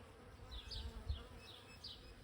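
Bees buzz around a flowering pohutukawa tree outdoors, a soft, steady hum with several passing drones, moderately faint and without voices.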